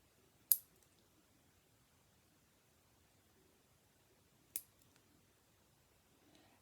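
Gel nail strips being trimmed with clippers or scissors, giving two sharp, crisp snips about four seconds apart against a quiet room.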